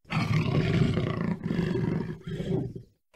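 A lion roars deeply in three heavy, rumbling bursts, loud and close, trailing off into silence.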